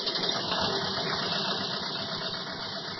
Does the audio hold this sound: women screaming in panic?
no